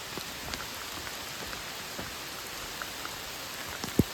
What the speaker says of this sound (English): It might be raining.